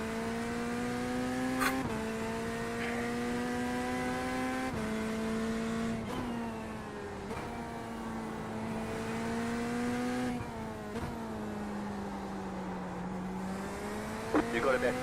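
Race car engine in the iRacing sim during a PRL IMSA Series round at the Nürburgring, droning steadily with pitch dips at gear shifts and tires sliding through corners, running continuously under someone talking.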